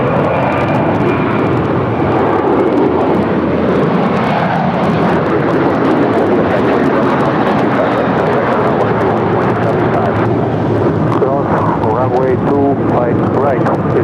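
JetBlue Airbus A321 jet departing LAX on a flight to Fort Lauderdale, a loud steady roar of engines filling the whole stretch, with a voice talking over it.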